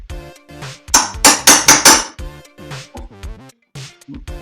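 A hammer drives a chisel to cut a small hinge halving in a wooden cupboard door frame, with a loud, close run of sharp, rapid strikes followed by lighter, scattered taps.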